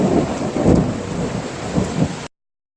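Steady rain pours outdoors with low rumbling swells, close and fairly loud, and no voices, ending abruptly.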